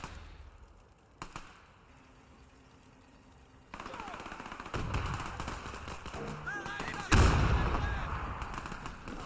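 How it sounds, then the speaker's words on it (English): Gunfire and shell impacts in the Men of War II video game, set on a 1944 Normandy road battle: a sharp shot, then a sudden jump to dense crackling battle noise with repeated bangs and a loud blast late on. "A ricochet."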